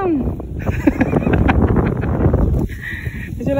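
Gusty wind rushing across the microphone outdoors at a scenic spot during light rain, a steady broadband roar that dips briefly near the end, with voices talking under it.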